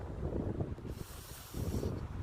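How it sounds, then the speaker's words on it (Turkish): Wind at Halfeti, Turkey, rumbles across the microphone in low, gusty buffets, easing briefly in the middle before surging again, with a faint hiss above. "Rüzgar esiyor. Rüzgar esiyor şimdi."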